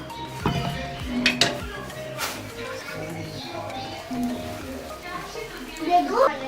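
Kofta curry with meatballs being served from a pot onto a plate, with clinks of a utensil against the dishes and soft scraping, under steady talk.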